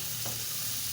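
Bitter gourd frying in a pan, with shrimp and egg in the dish, gives a continuous dense sizzle and a brief stirring scrape, with no talk.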